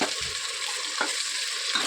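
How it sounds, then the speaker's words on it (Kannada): Ground masala paste fries in oil over onions in a home kitchen, making a continuous hissing sizzle. Two soft stirring knocks break through it, and no one speaks. "ಹಸಿ ವಾಸನೆ ಹೋಗೋವರೆಗೂ ಎಣ್ಣೆಯಲ್ಲಿ ಫ್ರೈ ಮಾಡ್ಕೊಳ್ಬೇಕು"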